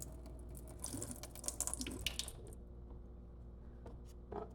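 Water runs from a kitchen tap in a quiet, steady trickle with faint splashes and drips. Soft, low-level sounds of the surrounding room carry underneath.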